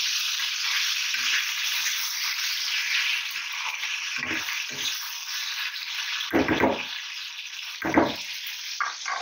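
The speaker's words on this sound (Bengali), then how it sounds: "এখানে চাপিয়েছি এই যে উচ্ছে আলু ভাজা, এখনই চাপালাম।" Sliced bitter gourd and potatoes frying in a pan, giving off a continuous bright sizzle broken by a few low thuds and bursts near the end.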